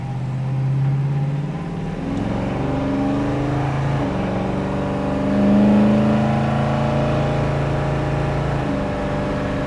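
A 1967 Ford Mustang V8 engine accelerates hard through several automatic transmission gear shifts, its low rumbling drone rising in pitch, dropping at each shift, then climbing again.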